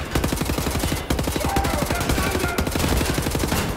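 Rapid automatic gunfire in Wolfenstein: The New Order, a dense, loud stream of shots with brief gaps, fired close up and continuing the whole time.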